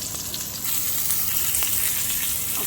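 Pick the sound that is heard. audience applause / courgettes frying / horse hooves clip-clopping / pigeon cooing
courgettes frying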